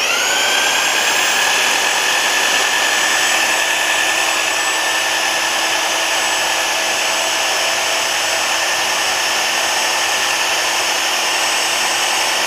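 A 1500 watt heat gun runs steadily in a shop, a loud continuous fan whine with stable high tonal lines and an even airy hiss, unchanging for the whole stretch with no talk.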